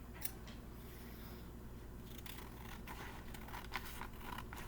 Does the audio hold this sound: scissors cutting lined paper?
yes